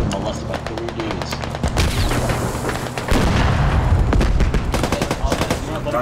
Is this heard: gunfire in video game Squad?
yes